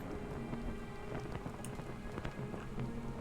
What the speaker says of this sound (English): it sounds like it is definitely raining outside in the game